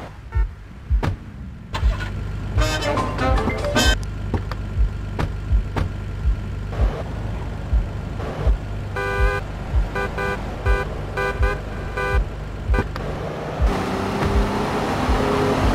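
A car drives in GTA Vice City Definitive Edition, its engine revving steadily under a run of clicking and tapping sounds, with a brief horn-like toot and a rising engine tone near the end.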